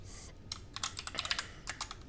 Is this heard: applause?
no